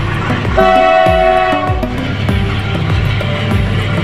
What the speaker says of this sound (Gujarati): ફાટક બંધ છે ટ્રેન આવી છે